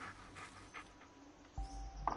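A dog panting in the Blair Witch horror video game, soft quick breaths under a quiet hiss of ambience, with a low thump and a brief tone near the end.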